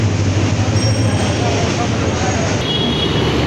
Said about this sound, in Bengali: আরেকটা ট্রেন যাচ্ছে